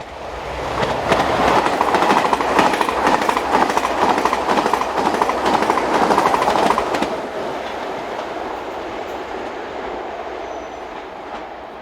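Pioneer TGV high-speed train set 001 passing on a French railway line, a loud rushing roar with rapid clickety-clack of wheels that builds quickly, holds for several seconds, then drops to a fading rumble as the train moves away.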